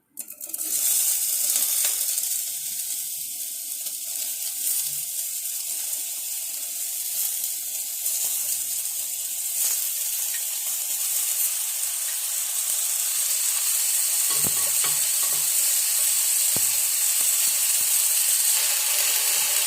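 Mixed vegetables for a Bengali ridge gourd curry fry in a little oil with black cumin seeds, giving a steady, fairly loud hiss and sizzle that runs unbroken for about twenty seconds with no talking.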